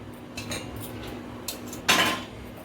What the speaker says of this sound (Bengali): এখন এই চামচটা দিয়ে হালকা হাতে এটা একটু মেখে নেব।